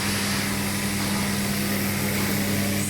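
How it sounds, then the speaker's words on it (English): Steady motor drone from a screw-driving machine on a coffee machine water pump assembly line, a continuous even hum with no pauses or talk. "this is the screw driving machine motor"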